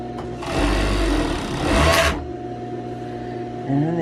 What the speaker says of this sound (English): Let's sew the sides together.